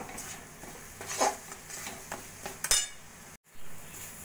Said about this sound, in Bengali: এইভাবে নাড়া দিতে দিতে বেশ সুন্দর কড়াই থেকে ছাড়া ছাড়া হয়ে গেছে।